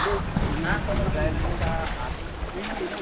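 A large river or stream flowing outdoors, a broad rushing wash of water mixed with wind buffeting the microphone, steady and fairly loud throughout.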